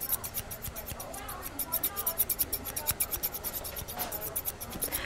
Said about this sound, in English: I'm just demonstrating how the scissors work